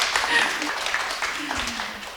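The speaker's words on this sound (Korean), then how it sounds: "박수 치셔도 돼요." Scattered clapping from an audience at a Saturday afternoon book club talk in a bookshop, a steady patter of hands that holds for a couple of seconds with faint voices mixed in.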